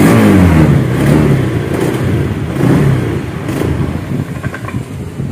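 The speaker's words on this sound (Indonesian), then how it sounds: "tapi nanti ketika digas kita seperti mau mati ya, atau mati beneran seperti ini" A Honda Beat scooter with a faulty throttle position sensor, its small engine revving unevenly, bogging and sputtering as it nearly dies, heard close up and fairly loud with a rough, faltering tone.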